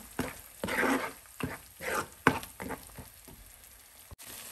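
Coriander paste for puliyogare fries in a pan while being stirred, giving soft intermittent scraping and sizzling bursts at an irregular rhythm, fairly quiet and close, with a sharp tap near the end.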